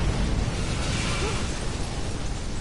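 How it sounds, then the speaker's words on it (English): A video game explosion gives a sustained, broadband roaring rumble that stays loud and dense throughout, with no clear onset or decay. "Big explosion over here."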